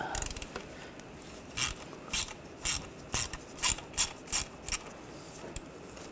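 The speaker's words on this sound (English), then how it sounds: "Using a 5mm hex socket, we're going to take this bolt out." A ratchet fitted with a 5mm hex socket loosens a bolt on a 2009-2017 Volkswagen Tiguan 2.0L, giving a series of about eight quick clicking strokes, close and moderately loud.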